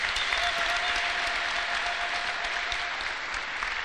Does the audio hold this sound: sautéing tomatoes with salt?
no